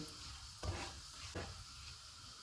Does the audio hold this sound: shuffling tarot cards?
no